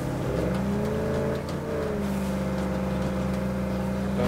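Car engine droning steadily in State of Decay 2, a low, continuous motor tone with slight pitch shifts as the vehicle drives on, close and fairly quiet with no talk over it.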